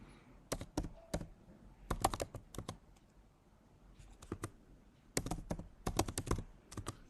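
A password goes in on a computer keyboard as close, crisp keystrokes in quick bursts of rapid clicks separated by short pauses, with no one speaking.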